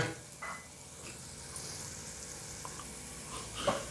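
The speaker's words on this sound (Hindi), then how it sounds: "1-2 चम्मच सूखा हुआ कड़े पत्ता डालेंगे।" Dried curry leaves sizzle and crackle in hot oil for a South Indian tomato chutney, a soft, steady frying hiss with a few faint pops, heard alone.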